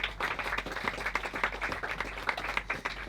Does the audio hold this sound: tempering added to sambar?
no